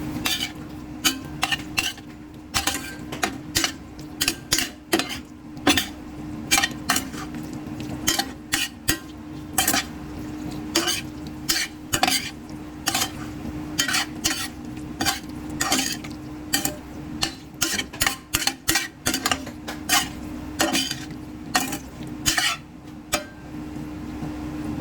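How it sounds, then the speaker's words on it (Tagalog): Stainless steel pan and ladle clattering and scraping while stirring chicken, a steady run of loud metallic clinks and scrapes at an uneven rhythm over a constant low cooking hum. "Maingay masyado yung kawali ko pati sandok. Stainless kasi, stainless."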